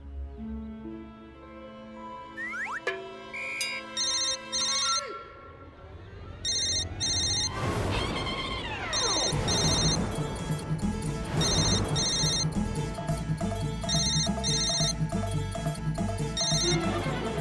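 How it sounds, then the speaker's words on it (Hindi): A phone ringtone plays repeatedly over a steady musical background in a Hindi comedy show after a number is dialed, a melodic electronic ring recurring in regular bursts for most of the stretch. "आप जरा वो नंबर डायल कीजिए ना जिस नंबर से आपको फोन आया।"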